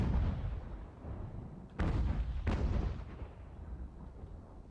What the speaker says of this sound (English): I love to just see 20 guns all fire at once